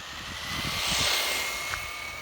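A Traxxas Slash RC car with a large 31-tooth pinion accelerating across a parking lot, its electric motor whine rising and swelling as it passes, then easing off, heard from a moderate distance without speech.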